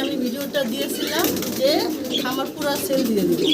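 Pigeons coo in soft, repeated rolling calls on a pigeon farm, heard close by and continuing under people talking.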